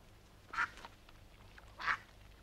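Two distinct duck quacks, about a second apart, from a nearby farmyard, each short and fairly clear over a quiet background.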